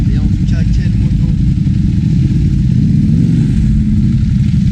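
A motorcycle revs at a Paris supercar gathering, its loud mid-pitched engine snarling up and down amid dense traffic rumble, with people talking over it.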